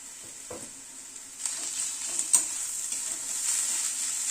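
Mashed roasted garlic frying in a pan with onion, ginger and green chilli, giving a steady hiss and sizzle, with a few scraping stirs of the spoon that sit close and loud.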